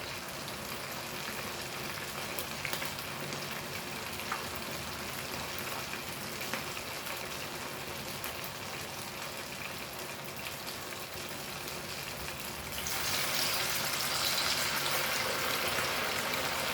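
Sabudana vadas made from tapioca pearls frying in hot oil give off a steady, dense sizzle with fine crackling throughout, growing slightly louder and brighter near the end. No voices.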